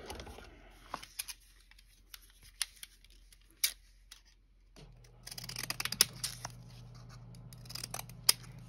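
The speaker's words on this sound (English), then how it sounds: "I'm just using these scissors." Stamp-pattern decorative craft scissors cut paper for a document holder in short, crisp snips and rustles, scattered clicks first and then a denser run of cuts over a faint hum.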